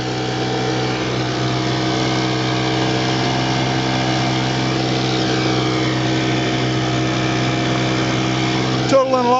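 A 1940 Bendix Eclipse TMD outboard motor, rated at 4.5 horsepower, pushes a boat upstream at about 6.5 mph. It makes a steady, close, unbroken engine drone with a slight disturbance near the end.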